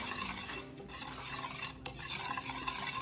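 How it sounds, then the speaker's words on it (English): A whisk beats a yogurt marinade with garlic and ginger paste for tandoori chicken tikka, making a continuous rapid wet swishing and scraping in a bowl, close and steady, with no voices. "And now I will mix it together with a whisker"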